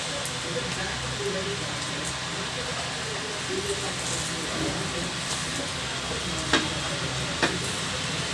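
Oil sizzling in a hot pan during frying, a steady hiss throughout with occasional stirring clatter and faint voices in the background.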